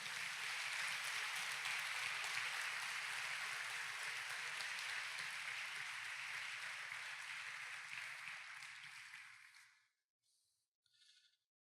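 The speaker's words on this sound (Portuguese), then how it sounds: "Então dá um aplauso ao Senhor bem forte" A church congregation claps loudly for the Lord, dense sustained applause filling the room for about nine seconds before fading out, followed by a few scattered quiet claps.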